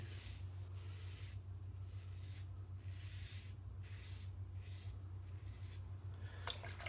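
A razor scrapes over a head lathered with eucalyptus and menthol, about seven close, steady strokes in an even rhythm, each a soft raspy swish, over a constant low hum, with no talking.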